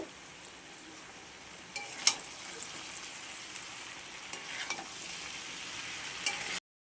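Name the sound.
mixing chowmein noodles with vegetables in a pan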